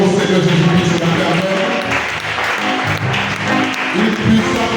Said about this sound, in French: Une puissante offrande, une forte acclamation au Dieu éternel